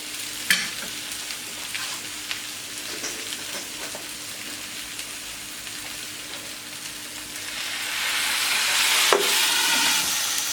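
Potatoes fry in a pan, a steady sizzle that swells louder and hisses with steam after a small splash of water is added, with a few stirring knocks along the way.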